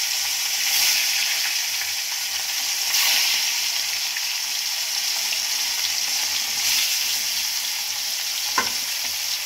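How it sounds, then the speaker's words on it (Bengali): Tilapia fish pieces fry in hot salted oil in a pan, a steady, bright sizzling crackle that swells in a few louder bursts, close and continuous with no talking. "আমি এক এক করে মাছগুলোকে ছেড়ে দিলাম"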